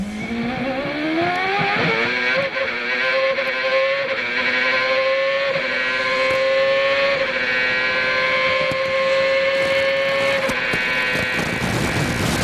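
Onboard a CART race car driven by Kenny Brack during qualifying at Long Beach, the engine screams loud and close, pitch climbing through sequential upshifts with brief dips between gears, with no voices.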